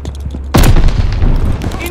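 A grenade blast in the World War II shooter Call of Duty Vanguard, a sudden loud boom that swells at once and rumbles on under scattered gunfire and battle noise.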